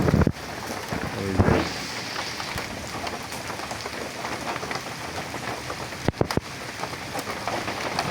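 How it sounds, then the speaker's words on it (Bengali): Heavy rain pours down steadily outdoors where pigeons are bathing, drops drumming on surfaces in a dense patter with a few sharp knocks and some wind buffeting the microphone. "বৃষ্টি তো ভালোই হচ্ছে।"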